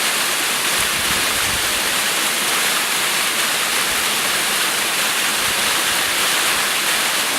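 Angel Falls waterfall roaring as a loud, steady, unbroken rush of falling water heard close by, with no voices over it.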